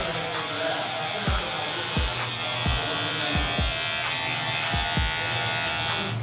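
A battery-powered electric hair clipper buzzes steadily and close during a police-style haircut, with several brief bumps as the blade passes through hair.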